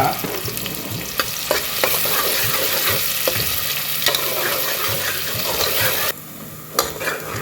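Onions fry in a pan for vegetable khichdi, giving a continuous close sizzle punctuated by regular clacking stirs of a spoon, then the hiss drops to a quieter level near the end.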